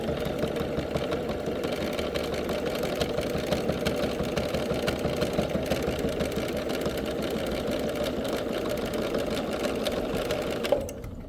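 A sewing machine stitches steadily through a quilt-as-you-go block to secure a back sashing strip, a fast continuous whirring hum, close and even, stopping abruptly near the end.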